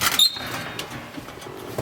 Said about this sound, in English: we're going to open up the door on the oven